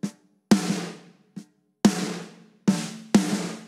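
Five compressed snare drum hits with a sharp, instant attack and a room-sample ring, played alone at uneven intervals. Each crack decays quickly, and a fainter ghost hit falls between them.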